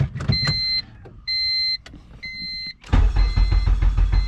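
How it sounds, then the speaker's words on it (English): A car cranks with beeping chimes, then its engine catches and runs loud and rough with a cold-start rattle from a faulty VTC unit, close by. "Got VTC cold start noise."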